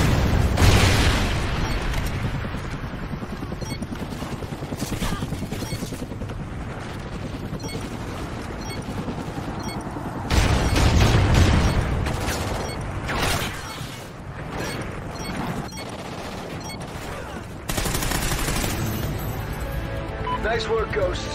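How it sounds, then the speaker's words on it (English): Rocket strikes and explosions in Call of Duty: Ghosts, a run of loud booms and heavy blasts with mechanical game noise throughout, strongest bursts near the middle and end, with occasional voices in between. "Friendly Trinity rocket inbound."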